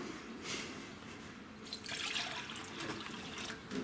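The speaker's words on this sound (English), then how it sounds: "Grab some from the tap here." Water running from a kitchen tap, a soft steady splashing and trickling stream into the sink, fairly faint and close, swelling slightly partway through, with no voices.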